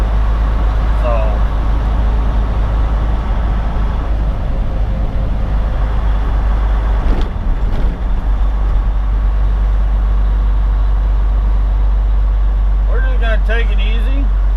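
A truck rolls down the highway near Greenville, South Carolina, on a rainy day, its steady engine drone and road rumble filling the cab continuously, with someone talking over it.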